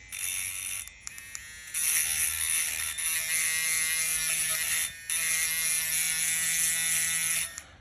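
A reed being ground to tune it gives a steady, loud buzzing whir in two long bursts, with a brief quieter start and short gaps in between. No voices are heard.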